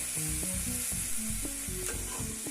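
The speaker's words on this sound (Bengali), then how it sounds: "এখন আমি ফুলকপিটা ভালো করে কষায় নিচ্ছি" Cauliflower fries and gets stirred in a pan for a Bengali fish curry with cauliflower, a steady close sizzle broken by rhythmic scraping strokes of a spatula.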